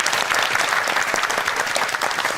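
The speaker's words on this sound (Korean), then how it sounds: "다시 한번 박수 좀 보내주세요." A studio audience on a Korean morning talk show applauds steadily, a dense, even wash of clapping from many hands that stays alone and constant for the whole moment.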